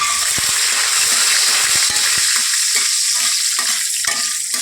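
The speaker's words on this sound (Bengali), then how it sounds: "দিয়ে দিলাম সর্ষের তেল, বাদামটা একটু ভেজে নেবো আগে।" Peanuts fry in hot mustard oil with a loud, constant sizzle, punctuated by clicks and scrapes of stirring against the pan.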